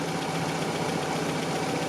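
A Toyota pickup's 22R engine idles steadily nearby at about 750 rpm, a constant low rumble with even, fine knocking and no other sounds.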